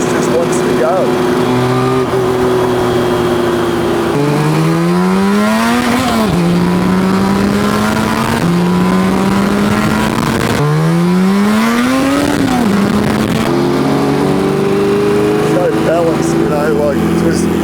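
A 1985 Suzuki RG500 two-stroke motorcycle ridden on the road, its engine loud and close, repeatedly revving up through the gears with rising pitch sweeps and brief drops between shifts, a steady buzzing drone throughout.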